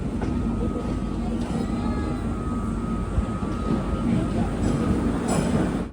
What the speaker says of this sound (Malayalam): ട്രെയിൻ ഇപ്പോൾ സിമലുഗുഡി ജംഗ്ഷനിലേക്ക് ഇതാ എത്തുകയാണ്